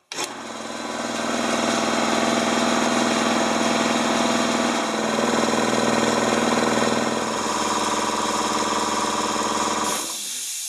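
A serviced air compressor starts with a sharp burst, then its motor and pump run loud and steady in a continuous mechanical drone, shifting slightly in pitch partway through before cutting off near the end.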